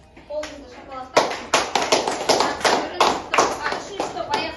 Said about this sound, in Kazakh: топтар, қолыңызды шапалақтап.